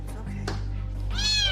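A stray kitten with fleas and ear mites meows during a veterinary examination: one drawn-out meow near, with a shorter cry earlier, over low room hum and faint background talk.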